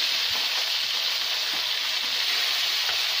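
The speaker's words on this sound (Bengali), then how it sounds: "মাছটা আমি রান্না করব, এই জন্য হালকা ভেজে নেব" Hilsa fish lightly frying in oil in a pan, village style, produces a steady, even sizzling hiss throughout, close and unbroken.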